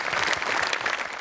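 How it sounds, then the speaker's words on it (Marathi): An audience on a TV comedy show claps in a dense burst of applause, close and loud, fading slightly at the end. "सोनी मराठीसाठी जोरदार टाळ्या."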